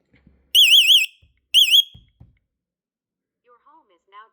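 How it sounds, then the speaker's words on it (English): A Vivint home alarm system, triggered by a basement smoke detector, sounds two loud electronic warbling bursts close by, each about half a second long. Faint knocks and a quiet voice follow. "Your alarm was triggered by basement smoke detector"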